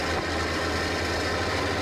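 A steady, rumbling Ford 1210 truck engine idle in Euro Truck Simulator 2, a low throbbing hum, continuous and close, no other sounds standing out.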